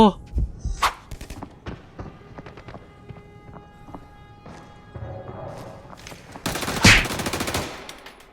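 In Arena Breakout, a Suomi submachine gun fires in sharp bursts and single shots, some near and some farther off. Footsteps and other scattered game noises fill the gaps, and someone talks excitedly over the action.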